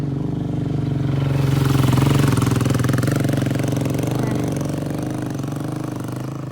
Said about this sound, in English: Oh, there's a motorbike coming. It's so noisy.